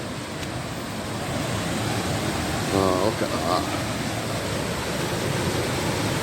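A waterfall in Glen Orchy in the rainy Scottish Highlands makes a steady broadband rushing roar throughout, with a brief spoken remark over it.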